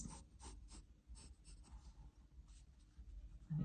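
A pencil or marker draws a straightened dart line along a template on a sewing pattern, giving quiet, close scratchy strokes in short bursts with pauses between them.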